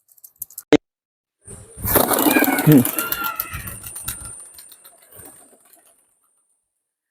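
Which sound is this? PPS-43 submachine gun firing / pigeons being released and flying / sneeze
pigeons being released and flying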